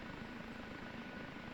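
OH-58D Kiowa Warrior helicopter idling in DCS, a steady dense rotor and turbine drone, loud and unbroken throughout.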